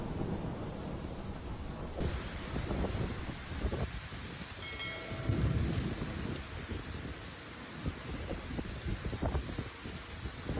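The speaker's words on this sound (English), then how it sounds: "Rain hit fast and hard." Heavy rain pours steadily through a violent fast-moving storm in central and northern France, with thunder rumbling low and loud, a deep roll building around the middle, and wind throughout.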